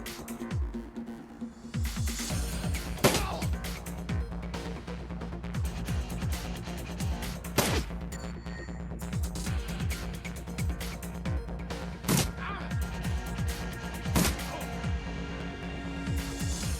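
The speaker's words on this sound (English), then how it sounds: "Can everybody stop shooting me?" Gunfire in the Shadowrun video game: repeated sharp, loud shots and impacts burst at irregular intervals over a continuous, busy background of combat noise.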